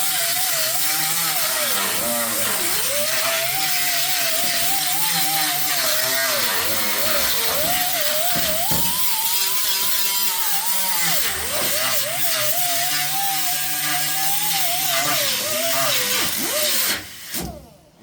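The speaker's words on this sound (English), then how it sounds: "Grind this down pretty far when we build that gusset plate to go in there." Grinder working metal on a 1966 Ford Fairlane rebuild, a loud continuous whine wavering in pitch as pressure changes for about seventeen seconds before cutting off abruptly.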